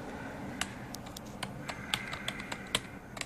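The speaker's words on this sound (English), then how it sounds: "This is a membrane keyboard, so it's not really that exciting." Keys clacking on a Dell SK-8135 membrane keyboard, a run of soft, irregular keystrokes at close range with a few sharper taps standing out, over a faint steady hum.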